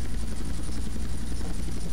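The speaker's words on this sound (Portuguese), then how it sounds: "Aí eu vejo um helicóptero muito bom" A helicopter in GTA Vice City, a loud, close, steady rotor drone with a rapid beating pulse that holds evenly throughout, with no other sounds.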